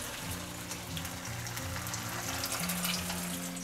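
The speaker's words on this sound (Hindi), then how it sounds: "इसी तरह से हम बाकी के बचे हुए टिक्की को भी फ्राई करेंगे।" Broccoli tikki shallow-frying in a pan, a faint, steady oil hiss with low background hum throughout.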